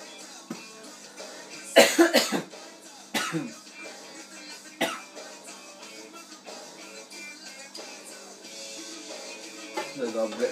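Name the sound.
cough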